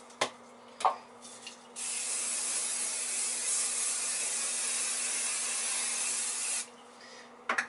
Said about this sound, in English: Put on some spray.